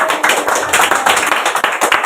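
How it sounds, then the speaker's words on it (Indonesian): Church congregation clapping hands loudly and fast, a dense close crowd of overlapping claps filling the space. "Berikan tepuk tangan bagi Tuhan."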